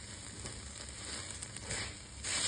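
Crumbled tempeh coated in sticky spicy sauce sizzles steadily in a hot pan, a continuous close crackle with faint stirring scrapes and no talking.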